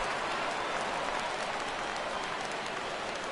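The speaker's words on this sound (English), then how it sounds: "Crowd gets up for the 3-2." A dense, steady roar of a stadium crowd cheering in a baseball video game during a full-count at-bat, sustained and loud throughout with no distinct voices standing out.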